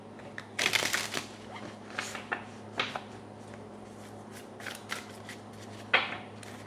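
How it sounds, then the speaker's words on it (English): Crisp riffling bursts of tarot cards being shuffled by hand, several quick flutters and taps spread across the stretch, close and fairly loud over a quiet background hum. "Just get one shuffle."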